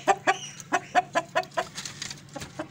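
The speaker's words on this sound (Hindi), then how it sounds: "ये बहुत आउट क्लास मेरा मुर्गा है और अच्छा ब्रीडर है" An Aseel rooster, a game breed kept for breeding, clucks in a steady run of about a dozen close, clear calls that grow slightly softer and more irregular toward the end.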